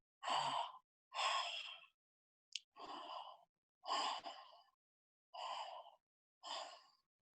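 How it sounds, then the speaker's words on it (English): Slow, open-mouthed breaths pushed out in a steady rhythm, six or seven long audible exhalations separated by short silences, close and fairly soft with no talking. "Continue breathing from your mouth. Keep the mouth open. It should sound like aha."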